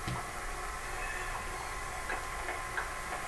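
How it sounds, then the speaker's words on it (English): Faint, rapid ticking and clicking of model train car wheels rolling over track joints, a light irregular rhythm over a steady background hum. "you can hear the clickety-clack of the wheels of these cars as they're running"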